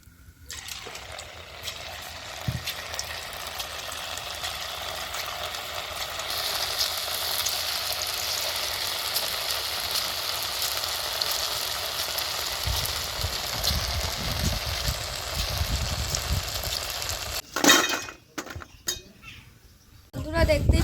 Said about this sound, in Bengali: এবার বাকিটাও ওইভাবেই ভেজে নেবো।